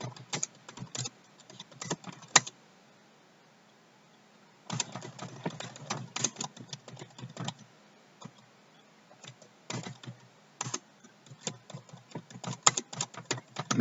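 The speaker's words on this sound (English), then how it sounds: "and type in some more information" Quick, light clatter of typing on a computer keyboard, heard close and alone. Short bursts of keystrokes are broken by pauses of a second or two, with a couple of sharper clicks among them.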